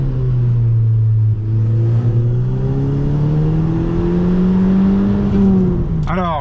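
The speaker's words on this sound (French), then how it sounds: "Écoutez-moi juste un petit peu cet échappement, regardez ça." An Audi TT fitted with an Oettinger four-outlet exhaust revs up loud and close, its droning note climbing steadily over several seconds before a sharp crackle as the throttle drops.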